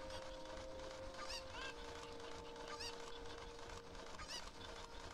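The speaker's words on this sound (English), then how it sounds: "I am going to grab this chicken" Cucco chickens clucking in Zelda: Ocarina of Time, with repeated squawky calls over steady game music and background sound, fairly faint overall.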